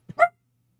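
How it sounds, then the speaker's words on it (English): A single short dog bark, close and sharp, preceded by a tiny huff, then silence. "I apologize for the dog"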